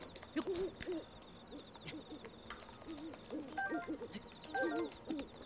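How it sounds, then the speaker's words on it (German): A bird calls in the video game Zelda: Breath of the Wild, soft repeated hooting coos in a woodland setting, with faint chirps and game ambience around them. "Was ist denn der Vogel? Ist der da oben? Ich höre den doch, oder?"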